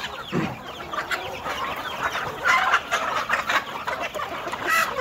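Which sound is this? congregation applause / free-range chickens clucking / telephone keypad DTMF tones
free-range chickens clucking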